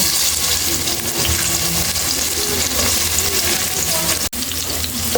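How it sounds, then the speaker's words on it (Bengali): Chopped onions fry hard in oil, a loud, dense, continuous sizzle filling the whole clip with one brief clack near the end. "পেঁয়াজগুলো আমি ভালো করে ভেজে নেব"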